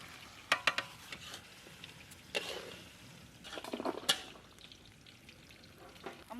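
Goat meat sautés with spices in a pan in a village kitchen, a quiet steady sizzle broken by several scraping stirs and a few brief clinks, close and fairly faint, with no voices.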